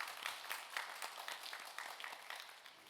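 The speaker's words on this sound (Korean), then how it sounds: "크게 한번 박수 한번 하겠습니다" A congregation at a Sunday afternoon church service claps together for a few seconds, soft, fairly distant rhythmic applause.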